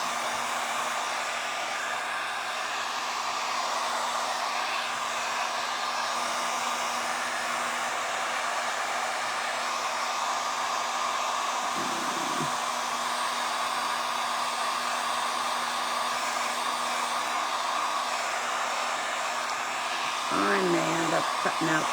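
A hair dryer blows steadily to dry wet decoupage glue, a loud continuous whirring hum lasting throughout, with a brief voice near the end.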